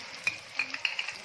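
Garlic and ginger paste hits hot oil with onions in a pan for a chicken karela curry, giving a bright crackling sizzle with quick stirring scrapes and pops, close and alone.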